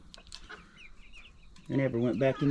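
Chickens in a poultry run cluck softly at first, then break into louder, repeated close-up clucking and squawking calls in the second half.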